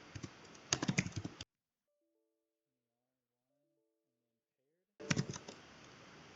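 Someone typing a command on a computer keyboard in two short bursts of quick, close key clicks separated by a stretch of near silence, quiet overall.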